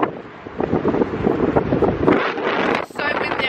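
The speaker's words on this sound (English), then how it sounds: "It's so windy, I think I'm gonna have to turn around and go somewhere." Strong wind buffets the microphone outdoors on the Buda side of Budapest, a loud, continuous low rumble with gusty surges and a brief lull near the end.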